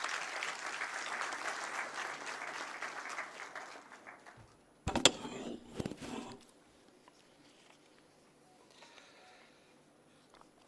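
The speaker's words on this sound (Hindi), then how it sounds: "आप सबकी तालियों के प्रणाम के अभिवादन के साथ।" An audience claps at a formal inauguration ceremony for a new state disaster management authority building, steady applause that fades out, followed by a few brief knocks and rustles, then near quiet.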